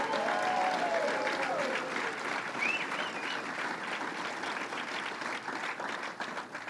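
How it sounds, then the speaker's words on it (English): Applause from a large outdoor crowd at the opening of the Great New York State Fair, a steady wash of clapping that holds throughout, with a brief whistle-like tone near the start. "Let's give him a big round of applause"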